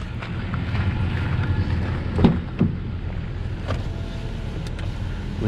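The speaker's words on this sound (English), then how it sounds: "Window up and down." Inside a 2022 Toyota Tacoma SR5 Double Cab, a power window motor runs up and down, a faint whir half buried in steady cabin and wind noise, with a few sharp clicks along the way.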